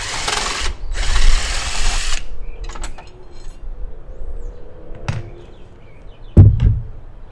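A power drill backs bolts out of a Larson storm door lock in two short, loud whirring bursts, followed by quieter clicks and handling noises and a final clunk.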